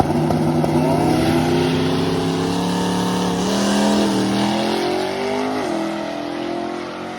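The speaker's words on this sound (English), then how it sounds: "So basically the car launched." A drag car launches down the track under a geared timing retard setup, its engine a loud, continuous roar whose pitch climbs and shifts through the run, with no talking.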